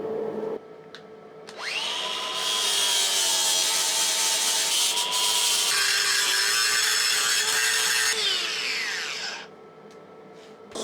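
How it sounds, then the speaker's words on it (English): An angle grinder working down welds on the bodywork of a Saab 900 Turbo, a loud sustained high whine that spins up, holds steady for several seconds with a slight pitch shift, then winds down. "But I'm gonna grind it down and probably also do some extra welding to make sure that everything is tight"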